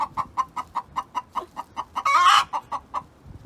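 A backyard hen clucks loudly in a steady, rapid series of close, evenly spaced calls, with one brief louder squawk near the middle; no talking.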